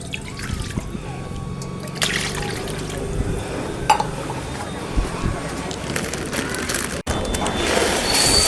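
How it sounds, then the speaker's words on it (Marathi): Water is poured into a pan holding a kilogram of sugar to start the syrup for balushahi, a steady liquid trickle and splash running close by over faint background noise. "थांब पहिले पाणी टाकू."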